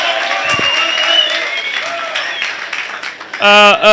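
Applause breaks out at an annual general meeting in a hotel, with a crowd clapping under a man's speech and the clapping swelling loudly near the end.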